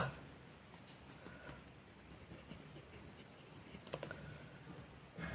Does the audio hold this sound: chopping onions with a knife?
no